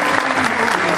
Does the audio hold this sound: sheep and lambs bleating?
no